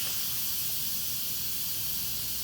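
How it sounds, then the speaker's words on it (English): Steam hisses out of a cooker as its pressure is released, a steady, loud, bright hiss that lasts the whole stretch with no voices. "Once the steam's all released, pretty much out, then I'll open it up"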